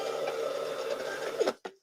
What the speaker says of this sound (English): I like my label printer.